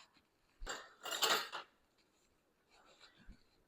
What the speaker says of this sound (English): Oh, maybe ladle it out. I have a ladle. Let me do that.